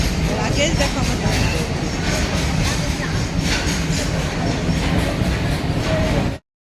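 A train rumbles along steadily at close range, a dense continuous roar with faint rhythmic clatter, running evenly for several seconds before cutting off abruptly.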